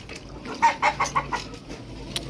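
Burmese Asil crossbreed chickens give a short run of about five soft clucks close by, followed by one faint extra note, with no talking.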